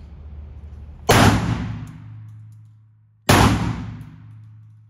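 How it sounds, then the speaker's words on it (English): Two loud shotgun blasts from an Emperor Mogul 12-gauge fired one-handed with slugs, about two seconds apart, each a sharp close boom trailing into a long echoing decay outdoors. "we're gonna shoot 2 slugs, one-handed"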